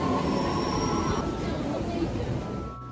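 Tokyo commuter train ride: a steady loud rumble of a carriage in motion with faint wheel squeal and a high whine, easing slightly near the end.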